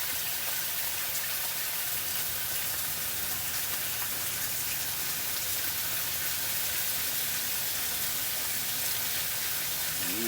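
Hy-Vee bacon sizzling and crackling in a hot pan, a steady close fizz of frying fat with scattered pops, heard alone without talk.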